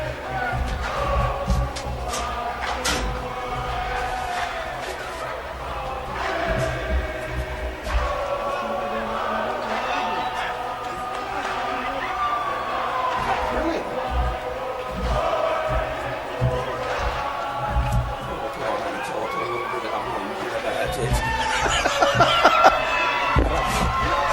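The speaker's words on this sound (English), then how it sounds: "the Fijians in the crowd singing" Fijian fans singing in the stands at the 2013 Fiji versus Australia police world cup final, a continuous crowd chant under steady commentary that swells louder toward the end.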